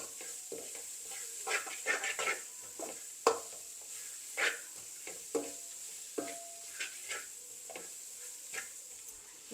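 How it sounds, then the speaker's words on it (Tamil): Onions frying together with dried baby prawns in a pan for sambol, a gentle steady sizzle broken by repeated scraping stirs of a spoon at a regular pace, close and quiet. "நான் வெங்காயத்தை இதோடையே நான் வறுக்கிறேன்"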